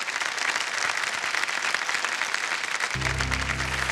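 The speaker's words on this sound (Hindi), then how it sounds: "तो एक बार जोरदार तालियां बज जाए।" Studio audience applause on the KBC game show, a steady wash of clapping throughout, ending as loud music swells in near the close.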